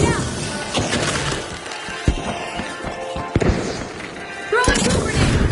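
A goo grenade bursts in a video game's destructible arena, throwing out loud splattering, crashing blasts with sharp thuds and debris, followed by a second heavy burst near the end.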